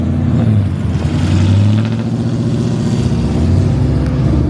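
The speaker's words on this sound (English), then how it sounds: "All you hear is that fool's truck. That's just loud." Loud truck cruising on a freeway in the rain, heard from a following vehicle as a steady, deep engine drone with low rumbling swells, close and constant with no talk.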